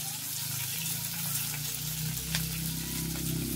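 Chopped onion dropped into hot oil while cooking a prawn dish, a steady loud sizzle and crackle filling the whole stretch, close up with no talk.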